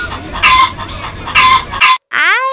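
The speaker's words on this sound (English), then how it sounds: "H for hen." A hen clucks in several short, loud bursts, followed by a rising, drawn-out squawk at the end, with no talking over it.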